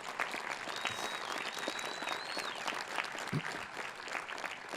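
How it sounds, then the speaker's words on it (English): A college commencement crowd applauds steadily, a dense patter of clapping that carries on for several seconds with a faint whistle rising over it. "Let's have a round of applause for them as well."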